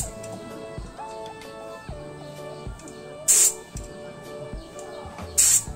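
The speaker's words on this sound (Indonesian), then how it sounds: "Ternyata kuat sekali semprotannya." Gas spraying hard from a three-way coupler fitted to a 12 kg gas cylinder, two loud bright hissing bursts rising over a steady background of tonal whine and clicks.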